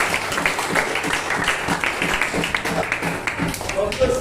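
A class claps for a student group after a long jump lesson, a brief stretch of scattered hand clapping with talk over it.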